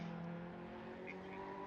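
A Ferrari GT3 race car in a sim racing game at Virginia International Raceway drones at steady high revs, a faint, even engine tone with no shifts or talking.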